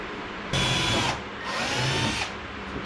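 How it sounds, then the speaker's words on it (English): Power drill boring through a plastic fender liner on a Honda S2000 during a louver install, two steady whining bursts of drilling close by with a short pause between, no talk. "It should drill pretty easy."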